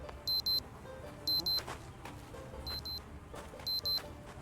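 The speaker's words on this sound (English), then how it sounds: "someone's watch is going off" A digital wristwatch alarm chirps in short paired bursts of high beeps, repeating about once a second over a low background rumble in the survival game Project Zomboid.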